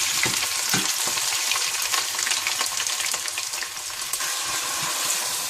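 Onions frying in hot desi ghee for a mutton stew produce a loud, continuous sizzle and crackle, steady and close, with light stirring noises throughout.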